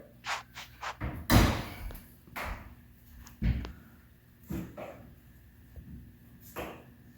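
Door opened for a whining dog in a home: a loud slam-like thud near the start, then several softer knocks, bumps and clatters spread across the clip, with no talking.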